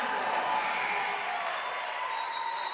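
A women's basketball crowd at a Canada West game between UBC and UBCO cheers after a made drive, a steady, moderately distant wash of applause and voices with no distinct peaks.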